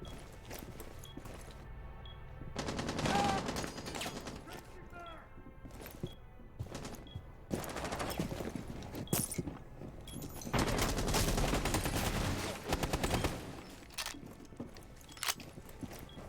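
Gunfire from the video game Rainbow Six Siege during a tournament match, with repeated sharp bursts and rapid volleys mixed with footsteps, and voices present in the background.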